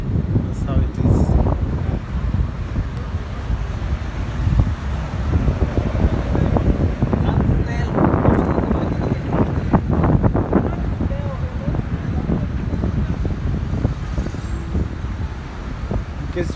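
Steady wind gusts across a summer city street, with passing traffic murmuring underneath and a person talking throughout.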